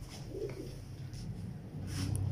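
Kamgar pigeons cooing softly in a loft, low rounded coos rising and falling at a distance under steady background noise, with a faint rustle near the end.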